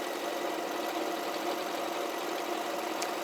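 A domestic sewing machine runs continuously while stitching around the edge of a fabric bag, giving a steady mechanical hum and rattle with no pauses.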